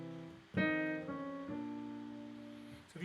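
Piano notes played in a short chromatic enclosure figure: a struck note, then neighboring tones closing in before landing on a sustained target note, clear and alone.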